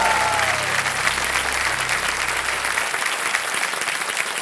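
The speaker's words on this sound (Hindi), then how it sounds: "जोरदार तालियां बज जाए एक बार इधर से भी और इधर से भी।" A Kaun Banega Crorepati studio audience breaks into loud, sustained applause. A brief musical tone sounds under the opening, then even, full clapping continues to the end.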